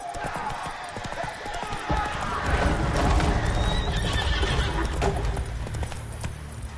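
A horse in a video game gallops with rapid clip-clop hoofbeats and lets out a loud neigh partway through, under a low rumbling game soundscape; no talk is heard.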